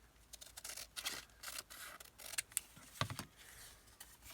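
Scissors cutting down a large paper tag at a desk, with a string of short crisp snips and rustles spaced irregularly, close and quiet, with no voices.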